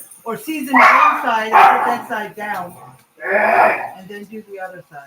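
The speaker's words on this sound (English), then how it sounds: "You can probably hear the dogs in the background." Dogs bark, yip and whimper while playing and fighting, coming through in bursts beneath a close voice talking in a kitchen.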